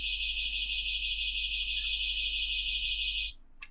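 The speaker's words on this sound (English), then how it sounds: "the system still triggers an alarm" A security system alarm: a steady, piercing electronic tone blares continuously at close range, then cuts off abruptly near the end.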